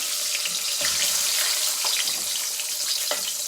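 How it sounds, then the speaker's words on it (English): Steady hiss of two frozen puris frying in hot oil, a constant loud sizzle with occasional sharper crackles, no voices. "Now I'm going to go ahead and fry my 2 frozen puris."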